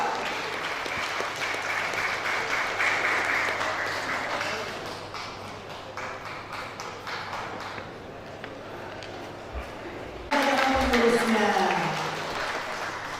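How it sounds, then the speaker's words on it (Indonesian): Audience applause at a declaration and inauguration ceremony for a Bugis Malay brotherhood foundation board in West Kalimantan, a steady moderate wash of clapping in a hall that swells louder near the end, with some background murmur. "Sekali lagi tepuk tangan meriah untuk pengurusan Yayasan Persaudaraan Bugis Melayu Provinsi Kalimantan Barat."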